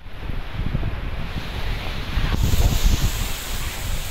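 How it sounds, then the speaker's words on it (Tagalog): Strong typhoon wind during Typhoon Quinta, with rooftops damaged, roars as a steady broadband rush, swelling into louder gusts midway, with no voices. "talagang matindi ang lakas ng hangin na nararanasan"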